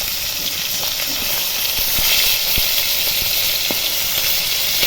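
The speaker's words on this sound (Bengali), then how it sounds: "মাছগুলো এক পিট হয়ে গেছে আর একটু উল্টে দেবো" Fish fry in a pan, a loud, steady hiss and sizzle of hot oil with a few sharp pops and spatters scattered through.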